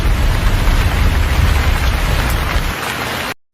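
Rushing floodwater and heavy rain make a loud, dense, steady hiss and roar for about three seconds, then cut off abruptly.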